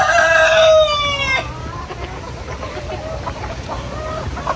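A rooster crows loudly close by, then chickens, including black roosters and Barred Rocks, keep up a steady low clucking and scattered calls in a farmyard where the birds are feeding.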